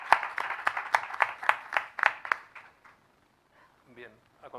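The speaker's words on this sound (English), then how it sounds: "we have the presence of Adela Medrano, who we would like to applaud here" At an international congress, a small audience claps in sparse, distinct hand claps that fade out after a few seconds, followed by a brief bit of speech.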